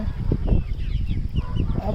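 Free-range native country chickens cluck softly and repeatedly at close range, with scattered birdy calls over a busy outdoor background.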